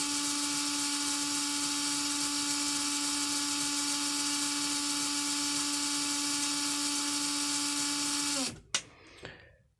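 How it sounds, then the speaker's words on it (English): A Titan 87-turn brushed RC motor whines at full RPM with a steady, high, unbroken tone close by, then cuts off abruptly and spins down with a few brief clicks and rattles. "For each motor, we're just going to run it up at full RPM, wait for the reading to stabilize"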